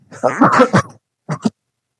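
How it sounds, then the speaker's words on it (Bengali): A person coughs and clears their throat indoors in a shared room, with one longer rough burst followed by a short double cough, close and fairly loud. "এই কাশি দিলে বাইরে কাশি দিবি"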